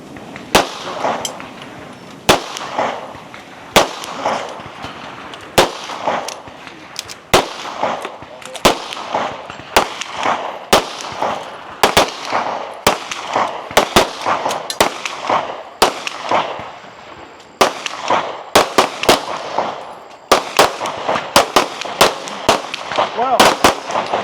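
A pistol fires twelve or more sharp, loud shots in a free-standing stage of a regional shooting match, the cracks spaced irregularly over a steady crowd-and-range murmur.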